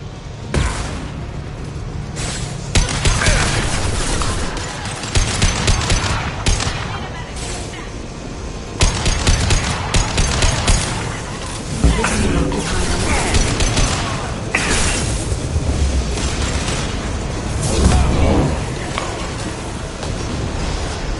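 Gunfire and a concussive shot in the Mass Effect 2 video game: loud, dense bursts of shots and booming impacts keep coming in repeated waves, mixed with game voices and combat noise throughout.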